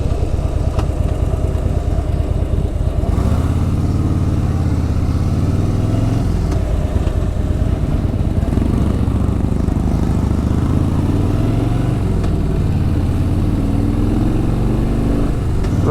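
Motorcycle riding along the old Mysore highway, a steady loud engine drone with shifting pitch as it speeds up and slows, continuous road and wind noise throughout.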